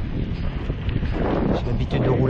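Gusty wind buffeting the microphone while riding a mountain bike fitted with a SuperWheel 650, a loud rough roar that swells and dips over a couple of seconds, with a voice talking underneath.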